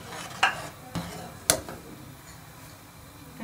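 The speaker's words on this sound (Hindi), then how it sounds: "इसे मिक्स करके हम पका लेंगे।" A spoon stirs a thick phirni mixture with pistachios, almonds, cashews and coconut in a pot, giving a few sharp clinks against the pot over a quiet, faint simmering bed.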